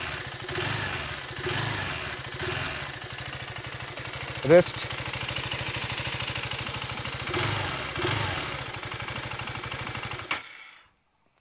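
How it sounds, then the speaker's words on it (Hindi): A 2025 KTM Adventure 390X motorcycle idles with a steady, close exhaust burble lasting about ten seconds, someone talking over it and a short sharp knock partway through before it cuts off. "सो एग्जॉस्ट का साउंड कुछ इस तरीके से थे।"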